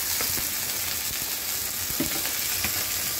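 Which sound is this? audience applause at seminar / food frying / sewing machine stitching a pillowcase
food frying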